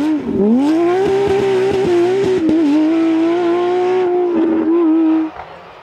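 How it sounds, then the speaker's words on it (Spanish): Porsche rally car on rough, adverse terrain at a rally, its engine loud and close, revving and shifting with steady pitch changes before cutting off abruptly at the end. "Yago Silva en terreno adverso para su Porsche."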